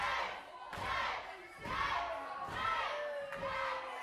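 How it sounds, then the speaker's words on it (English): Wrestling crowd at an APW independent wrestling championship match, roaring and shouting in loud surging waves that swell and break repeatedly, with no clear single voice standing out. "The crowd now, it's getting loud in here."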